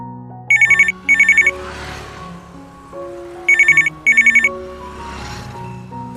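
A mobile phone ringtone plays two pairs of bright electronic trill bursts, loud and close, over a background music score with no talk.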